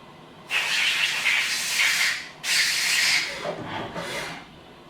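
In a hot rod shop, a tap cuts threads into half-inch holes in metal, producing three close, harsh rasping bursts of grinding hiss separated by brief pauses.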